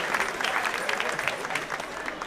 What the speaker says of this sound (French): Est-ce qu'on peut applaudir pour accueillir Super Obamla